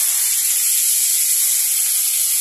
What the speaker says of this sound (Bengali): এখন আমি এই আলু আর পেঁয়াজটা এখানে দিয়ে দিচ্ছি কড়াইয়ের মধ্যে।